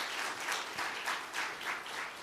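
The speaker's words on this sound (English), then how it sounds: "give them a welcome round of applause" Applause from a church audience welcoming online viewers, a steady wash of many hands clapping at moderate distance with gentle swells, no voices over it.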